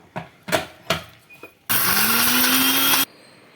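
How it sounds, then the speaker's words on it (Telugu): A few light knocks and clicks, then a mixer grinder grinding coriander seeds and curry leaves roars loudly for just over a second before cutting off abruptly. "మిక్సీలో వేసాను, చల్లారింది కొంచెం, వేసాను మిక్సీలో."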